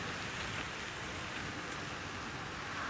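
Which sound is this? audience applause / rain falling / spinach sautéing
rain falling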